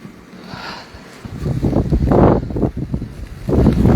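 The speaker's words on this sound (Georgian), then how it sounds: "საკმაოდ ძლიერი ქარია" Strong wind gusts buffet the microphone on the seaside boulevard in Batumi during heavy snowfall, a steady low roar that swells and surges loudly from midway on.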